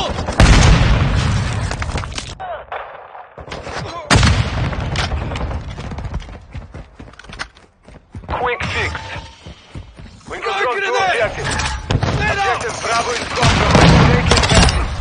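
Modern Warfare 2 (2022) multiplayer combat with loud bursts of gunfire, heavy booms and explosions, and rattling mechanisms, close and dense with brief lulls. Game voice callouts can be heard between the shots.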